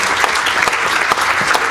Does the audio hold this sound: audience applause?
yes